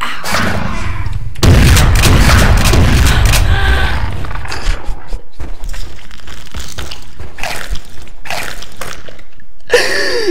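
An old gun in Jurassic Park: Trespasser fires at a dinosaur: a loud, close blast with a booming rumble, followed by scattered thuds and gasping voices.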